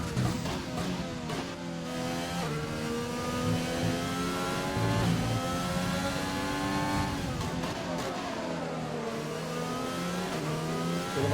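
A race car accelerates hard around a track, its engine climbing through repeated rising revs and gear shifts, loud and sustained throughout.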